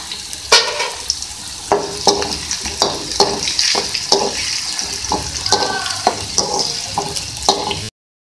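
Ginger and cumin sizzling in hot oil for a chana daal tempering, a steady crackling fry broken by repeated sharp stirring scrapes of a spoon in the pan, close and loud with no talk.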